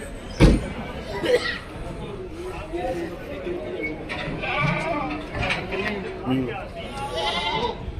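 Several goats bleat over a busy crowd of overlapping voices at a weekly goat market in Maur Mandi, Punjab, with a loud bump near the start and more calls scattered throughout.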